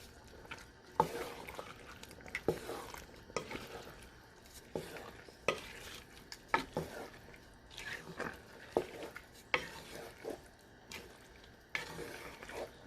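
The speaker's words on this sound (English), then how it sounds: "I took out the mackerel fish so it doesn't break. Just stir gently." Seafood okra soup with snail is stirred gently in a pot, giving soft, close, repeated scraping and sloshing strokes at a steady pace over a faint simmer.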